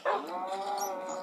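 A dog in a Minecraft-style block game gives a single close whine-like bark that trails into a short tonal whimper, standing alone with no talk.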